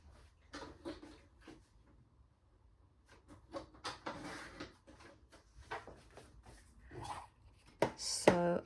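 Paper tags for a mini pocket folder being cut, heard as faint, close snips and crisp paper rustles in irregular bursts over a quiet background.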